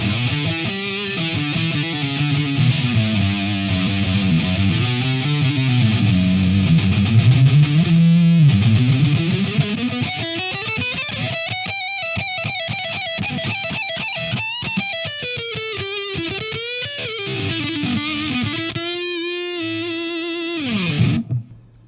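An electric guitar played through a Boss MT-2 Metal Zone distortion pedal with the gain turned fully up gives a loud, saturated, buzzing tone. Sliding and sustained notes ring out continuously and alone for about twenty seconds, then cut off abruptly.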